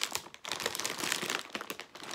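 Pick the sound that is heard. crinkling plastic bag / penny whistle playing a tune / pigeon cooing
crinkling plastic bag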